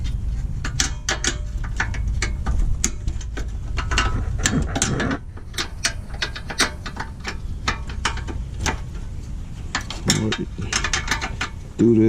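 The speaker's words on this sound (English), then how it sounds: "I'll loosen the screw right here in a tight spot." A ratchet works on a screw in a tight spot during a teardown of a 2009 Cadillac CTS, producing steady, rapid clicking up close with a brief pause midway.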